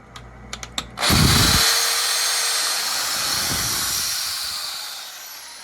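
A CBN carbide reamer spins into a bronze valve guide, starting after a few sharp taps. It makes a loud, steady hissing whir that fades slowly as the tool winds down. No one speaks.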